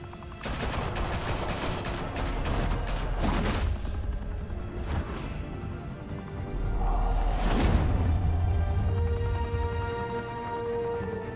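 Police open fire in a Batman video game, with loud scattered shots and bursts clustered near the start and again midway, alongside booms and rumbling impacts over a busy game soundscape.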